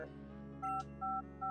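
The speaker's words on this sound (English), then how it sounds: "That's such a loud stock sound effect for the phone." A loud stock phone-dialing effect from an RPG Maker horror game, Pokemon Dusk Remastered: three short evenly spaced dual-tone beeps over a steady background hum.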